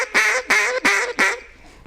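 A hand-blown duck call imitating hen mallard quacks gives four loud, close, evenly spaced nasal quacks in a steady descending cadence, the last fading off.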